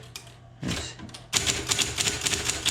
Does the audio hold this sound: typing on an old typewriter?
yes